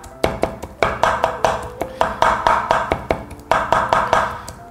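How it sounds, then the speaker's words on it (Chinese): The back of a knife lightly chopping peeled river shrimp meat on a cutting board, a steady run of about twenty close, crisp knocks in an even rhythm with a brief pause near the end. "用刀背轻轻的剁几下"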